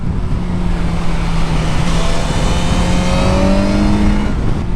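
A 2021 BMW S 1000 R motorcycle rides along the road with a loud, steady engine drone and rushing wind. The engine pitch climbs slightly near the end, with no voices.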